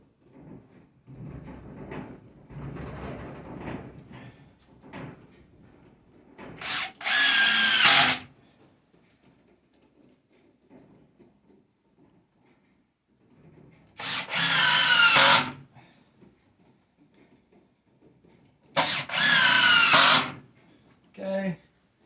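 A power drill drives 3.5-inch coated screws, likely into wood, in three loud bursts of whirring roughly a second or two each, separated by quieter stretches of low talk and handling noise.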